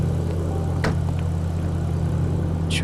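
A modified BMW M4 in the game GTA 5 idles with a steady, low, even engine hum, with only faint brief clicks over it and nobody talking.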